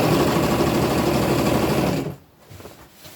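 A sewing machine stitches knit fabric for an upcycled tunic: a loud, close, steady motor whir with rapid needle chatter for about two seconds, then it stops and leaves only faint room noise.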